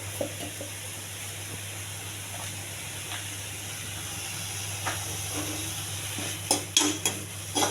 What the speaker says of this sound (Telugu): ఈ కొత్తిమీర పుదీనా వేగిందండి